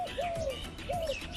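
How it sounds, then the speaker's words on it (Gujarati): A dove coos twice, each call a soft, descending note repeated in a slow, even rhythm, close and fairly quiet against a faint background. "આ કયું પક્ષી છે? હોલો. બોલો. અંગ્રેજીમાં ડવ."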